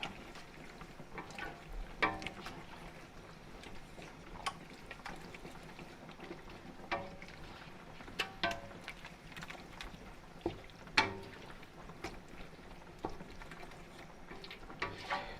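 Roast pepper sauce ingredients for Bulgarian lutenitsa are stirred together in a bowl, giving soft, wet sloshing with irregular clinks and scrapes of a utensil, fairly quiet and close.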